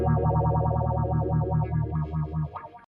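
Guitar through a Boss phaser pedal with the rate turned up, giving a fast, steady sweeping whoosh over held distorted chords. It plays loud and alone, with a brief strum change near the end.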